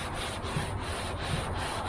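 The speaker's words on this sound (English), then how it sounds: "some elbow grease, which is the power of your scrubbing work" An old grill is scrubbed hard after being coated with grill and oven cleaner, giving a dense, continuous close rasping rub with a quick back-and-forth rhythm and no voices.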